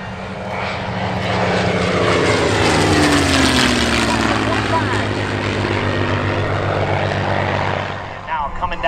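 A Mustang and a Corsair, propeller warplanes with over 4,000 combined horsepower, pass at an airshow with a loud, swelling piston-engine roar that builds, holds and slowly eases off, with a public-address voice talking over it.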